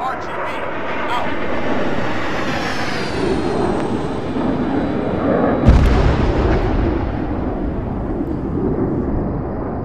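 Airstrike bomb explosions in the video game Arma 3: heavy, booming blasts rumble over a roaring jet drone, with a sharp burst midway and a sustained low roar around it.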